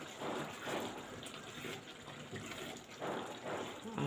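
Water is poured into a cooking pot for a home-cooked orzo dish with liver and gizzards, a soft, uneven splashing and trickling in a few bursts, faint and close, with a little speech nearby.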